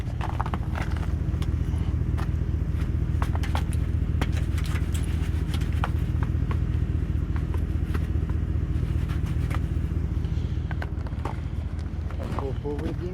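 A Chevy Express van's engine runs steadily on ice, a continuous low rumble that holds throughout as the driver tries to pull straight forward, with scattered clicks and scraping bursts on top and voices talking now and then.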